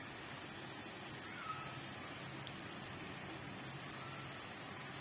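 Steady rain pours down onto a waterlogged street where water stands in pools, a continuous dense hiss of drops with no breaks and no voices.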